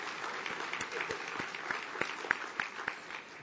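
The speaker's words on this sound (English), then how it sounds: "let's please give a round of applause" A luncheon audience claps in steady applause, moderately distant, with dense overlapping hand claps and a few sharper individual claps standing out.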